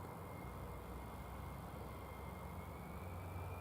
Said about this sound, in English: we definitely have an airplane started up. I think it's even taxiing